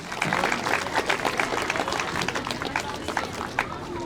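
A crowd at an elementary school time capsule ceremony applauds the fifth grade volunteers, with steady, lively clapping from many hands and a few voices mixed in throughout.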